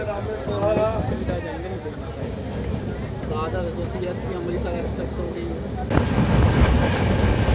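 Shane Punjab Express coaches running behind a diesel locomotive, a steady rumble of wheels on rail with faint clatter, growing louder near the end, under someone talking throughout.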